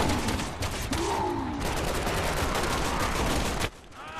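Sustained rapid gunfire from a Resident Evil 6 firefight, dense and loud for several seconds with clustered bursts, then abruptly cutting off near the end.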